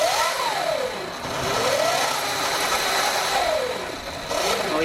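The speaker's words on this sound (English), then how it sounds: "we're gonna go fire the bike up right now and see if it works. All right. On. All right. I'm gonna twist the throttle." A Sur Ron Light Bee electric dirt bike with a KO controller in eco mode whines as its throttle is twisted, a motor pitch rising and falling in repeated sweeps over a steady loud hiss.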